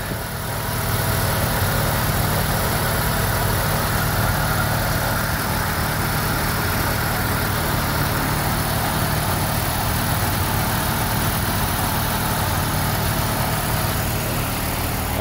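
A Mazda RX7 engine idles steadily and loudly at 1100 rpm throughout, a constant low rumble with no change in pace.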